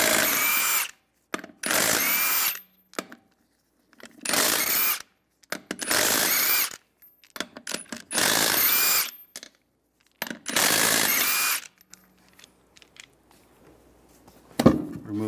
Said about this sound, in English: Using a 22 millimeter socket, take the lug nuts off.